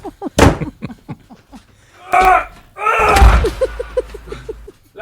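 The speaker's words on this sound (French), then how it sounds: "Moi aussi, je vais claquer la porte." A heavy studio door is slammed shut, giving a few sharp thumps and a deep booming impact amid lively French talking and exclamations from several people.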